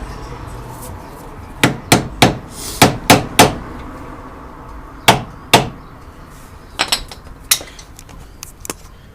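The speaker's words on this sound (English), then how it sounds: "you beat it with the ratchet" A ratchet beats repeatedly on a car axle part in sharp, close metallic strikes, some in quick pairs and clusters, with short pauses between groups.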